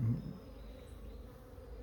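A low, faint droning hum of buzzing honeybees, steady and soft throughout the short moment.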